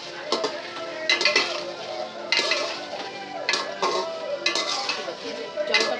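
Rice tipped into a pan of chicken polao with metal clinks and scraping stirs, a few sharp utensil strikes against the pot recurring over a low background, close and moderately loud.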